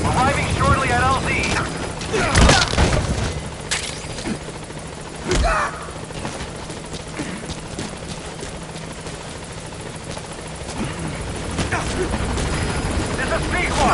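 A helicopter in the Metal Gear Solid V video game comes in to land at a landing zone, its rotor thumping loudly and close throughout. A voice speaks over the rotor, and sharp bursts and clanks punctuate the scene.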